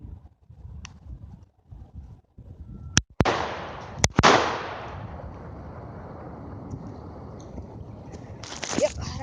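Two loud shotgun blasts fired at bottles outdoors, a second apart, each followed by a long rolling echo that fades under soft background noise, with a faint rustle near the end.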